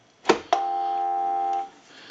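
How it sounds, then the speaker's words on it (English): A handset on a Mickey Mouse novelty telephone clunks down twice, and a steady dial tone then hums for about a second before cutting off, close and clear with no talking. "We'll hang up, dial tone."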